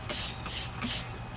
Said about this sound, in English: I get this one, put on a full spray, it's wide